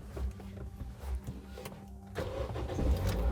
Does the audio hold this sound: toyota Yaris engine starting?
yes